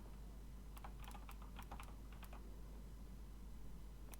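Computer keyboard typing while a Discord server's automod is being set up: a quick burst of keystrokes and clicks at close range, fairly faint over a steady low hum, with no talking.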